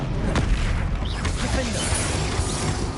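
Spell blasts from Bombarda and Confringo in Hogwarts Legacy, dense overlapping booms and bursts in a continuous rumbling battle mix, with sharp impacts early on and a sustained loud layer throughout.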